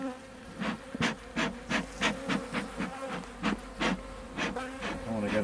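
Honeybees buzz steadily around an open brown hive during a spring inspection on a calm day. The droning swarm hums close by, with individual bees swelling louder as they pass near.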